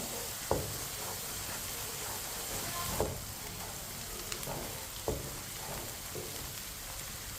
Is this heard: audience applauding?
no